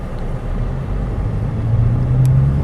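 A 2003 Toyota Camry LE with 115,000 miles accelerates up a hill on a test drive, a steady low cabin rumble of engine and road noise that swells slightly toward the end.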